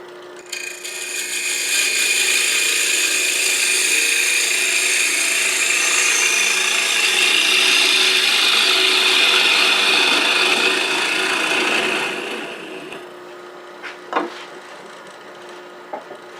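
A lathe tool takes a texturing pass on turning wood, making a loud, continuous scratchy rasp for about eleven seconds before easing off, leaving a faint hum and a few light knocks.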